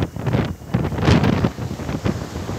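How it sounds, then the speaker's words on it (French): Wind gusting on a warm Algerian beach in January, a steady rushing buffet against the microphone that swells and eases in waves, with faint surf-like roar underneath and no speech. "Le vent, les amis, le vent."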